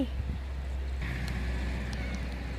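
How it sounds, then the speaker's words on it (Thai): A loud farm tractor rumbles near a small rural bridge, its low engine drone steady and heavy, with a thin mechanical whine rising partway through. "โอ้ยรถไถมาเสียงดังจังเลย"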